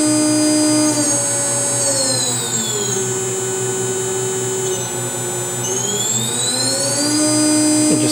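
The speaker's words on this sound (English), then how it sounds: "we're gonna turn on the spindle." A CNC router spindle on a touch-screen-controlled machine whines steadily, its tones sliding down as the speed drops and then climbing back up as it is raised again, loud and close with no talk.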